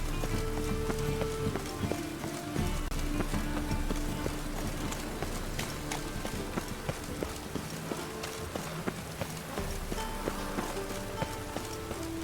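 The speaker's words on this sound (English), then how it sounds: "raining again" Steady rain hisses down in the video game Witcher 3, a dense, even wash of patter filling the scene while horse hooves clop along beneath it.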